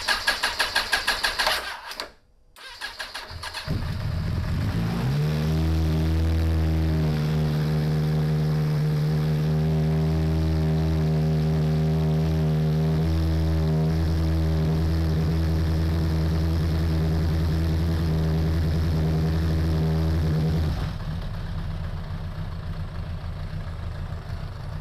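A Suzuki Bandit 1200 motorcycle with a fault that keeps it from staying running cranks briefly, then catches and settles into a loud, steady, close idle that holds for about fifteen seconds before cutting out.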